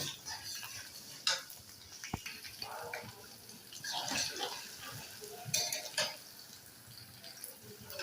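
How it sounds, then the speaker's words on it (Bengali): Chopped onion and garlic go into a pan to fry in oil while cooking beef tripe, with soft sizzling beneath intermittent clinks and scrapes of a spoon against the pot. "পেঁয়াজ এবং রসুন কুচি দিয়ে দিচ্ছি দিয়ে এখন আমি এটা ব্রাউন কালার করে ভেজে নেব"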